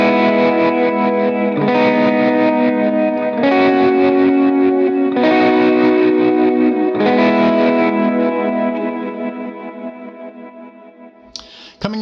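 Electric lead guitar for a song played through an effects snapshot with distortion and chorus: sustained, thick chords and ringing notes changing every couple of seconds, fading out near the end before a brief clatter.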